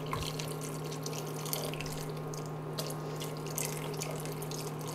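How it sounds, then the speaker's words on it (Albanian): About a liter of water poured into a pot for a traditional beef tasqebap stew, a soft steady trickle and splash over a constant low hum, faint and continuous without talk. "Unë jes rreth 1 litër e pak ujë."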